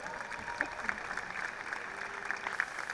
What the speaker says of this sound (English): I'll hear a big round of applause and welcome to the stage the CEO of the Odyssey Trust